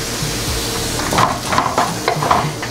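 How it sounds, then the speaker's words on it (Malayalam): Chopped tomatoes hit a frying pan for an onion-tomato chutney, setting off a steady close sizzle with several brief scraping bursts as a spoon stirs them through. "ഇതിലേക്ക് നമ്മൾ ചെറുതായിട്ട് അരിഞ്ഞു വെച്ചിട്ടുള്ള തക്കാളിയും കൂടി ചേർക്കാം"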